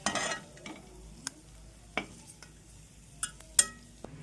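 Prawns fry in oil with a soft sizzle, broken by sparse scrapes and clinks of a utensil against the pan.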